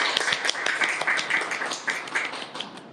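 A lecture audience gives a short, moderately loud round of applause to welcome a lecturer, the claps dense and uneven, slowly thinning out over about three seconds.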